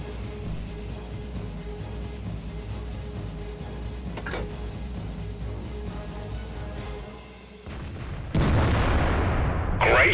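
An FV304 self-propelled artillery gun fires in a tank video game on the Sand River map, with a steady rumbling game ambience that briefly dips before one loud, close blast near the end.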